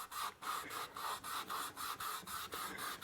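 Sandpaper rubbed back and forth over the finished surface of an ebony guitar headstock on an archtop neck, a steady rhythmic rasping stroke about four times a second, close and continuous.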